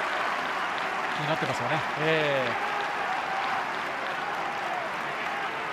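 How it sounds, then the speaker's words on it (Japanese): Warm applause from Kashima Antlers home supporters in a football stadium at a J1 League match, a broad wash of crowd clapping with a commentator talking over it and a brief whistle-like tone in the middle. "これはホームの鹿島のサポーターからも、まあ、温かい拍手"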